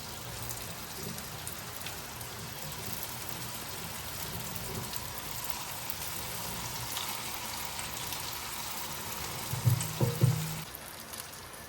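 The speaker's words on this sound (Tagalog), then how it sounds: "Prito na tayo guys." Vegetable spring rolls (lumpiang gulay) frying in hot oil, a dense continuous sizzle and crackle throughout, close and steady, with a few low knocks near the end.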